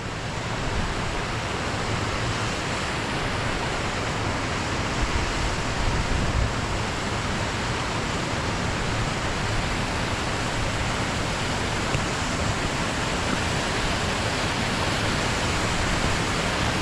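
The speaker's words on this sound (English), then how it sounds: "this is where you get all the white froth, where it's getting pushed into the rocks" Careyburn waterfall pouring into rocky pools, water frothing white against the rocks; a loud, constant broadband rush close by with no letup and no voices.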